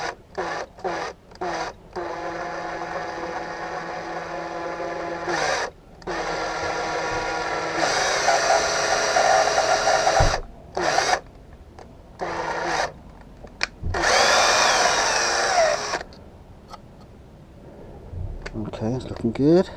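An electric drill with a 2.5 mm bit runs in reverse in several whirring bursts of varying length, separated by pauses, with a person talking in between.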